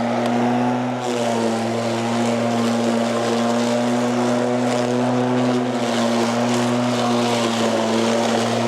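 A Litheli Easy Surge 40V cordless lawn mower cuts through tall grass, a loud steady motor whine close by that runs continuously with little change in pitch, no talking.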